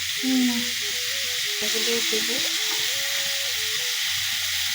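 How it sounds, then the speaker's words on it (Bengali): Prawns frying lightly in a pan for a home curry with potato and pointed gourd, giving a steady, even sizzle and hiss throughout, with faint muffled tonal sounds in the background. "চিংড়ি মাছগুলোকে হালকা ভাজবে, খুব একটা বেশি ভাজবে না।"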